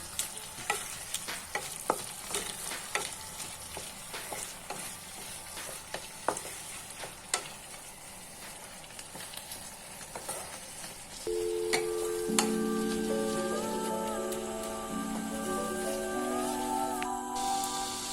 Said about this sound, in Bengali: এবার 1 মিনিট নাড়াচাড়া করে নেব, কষিয়ে নিচ্ছি 1 মিনিট।